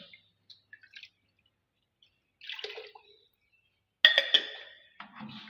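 Sodium hydroxide (caustic soda) being added to water for homemade chlorine bleach: a few quiet, sparse drips and small splashes, then a louder burst of pouring and sloshing liquid near the end, with no talking.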